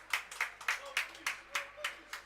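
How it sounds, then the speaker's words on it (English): Ice hockey fans at Fife Ice Arena clap for the Sheffield Bears in a steady rhythmic unison beat, about nine evenly spaced claps carrying through the rink at moderate distance. "they're cheering for Sheffield"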